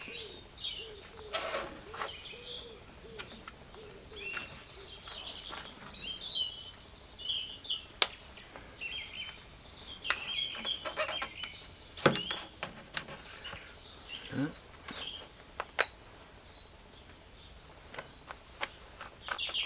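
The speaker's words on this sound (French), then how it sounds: "On entend les oiseaux, ça siffle." Small birds nesting in garden hedges sing and whistle in a busy, overlapping chorus of sharp chirps and trills, with a few louder calls near at hand and softer ones farther off, continuing throughout.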